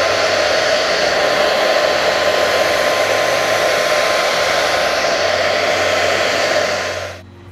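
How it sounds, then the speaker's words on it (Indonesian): A hair dryer blows hot air onto a cheesecake mold to loosen it, a loud steady whooshing roar running continuously for about seven seconds before cutting off, with no talking. "Kalau nggak ini aku pakai hair dryer."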